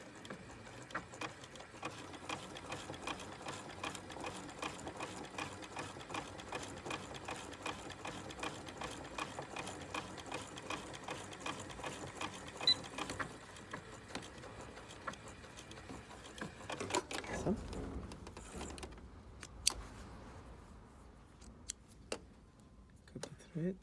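A domestic sewing machine stitches a bustier and bra cup foundation, its fast even needle chatter running steadily for most of the stretch before breaking into a few short bursts and clicks near the end.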